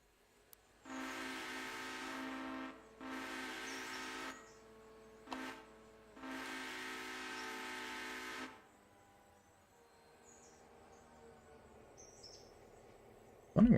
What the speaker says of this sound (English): Wondering where I was hearing so much whistling